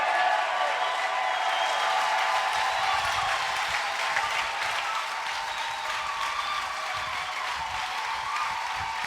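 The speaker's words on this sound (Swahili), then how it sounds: "Makofi kwa Mungu wetu, makofi kwa Mungu wetu" Sustained, steady applause fills a church congregation after a healing testimony, dense clapping from many hands continuing at even loudness throughout with no speech over it.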